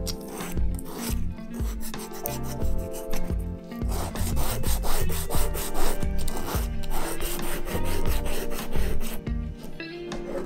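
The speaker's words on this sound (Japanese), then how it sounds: "ではじゃあ一番大変なねミッドソールをちょっとね剥がしていきましょう。" A Nike Air Jordan 3 sneaker midsole being scraped and filed off by hand, with loud, close, rhythmic rasping strokes repeating steadily throughout, no talk.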